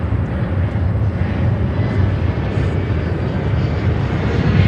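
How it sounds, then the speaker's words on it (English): Air China Cargo Boeing 747-400 freighter, arriving from Anchorage, roaring steadily and loudly with deep broadband jet engine rumble at an airport, constant throughout with no talk. "That will be Air China Cargo 747 400, 18 years old, coming from"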